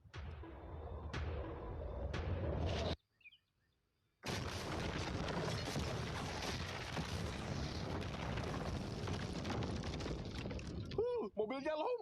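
A blast goes off beneath a blast-proof car carrying a mannequin: a sudden loud, sustained broadband roar follows a brief silence, with a crackling tail and voices over it.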